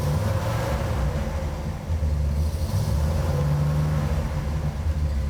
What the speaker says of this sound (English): beautiful sound of that Pontiac 400 HO cubic inch engine pumping out 360 160 horsepower